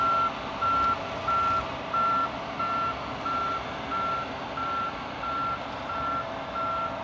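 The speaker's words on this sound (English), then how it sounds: "There's that masticator working, removing fuel, chipping it out of there." A forestry masticator with a large all-hydraulic front attachment chips out fuel along mountain dozer lines, its heavy engine droning steadily and loudly while a regular reversing beep repeats about every half second throughout.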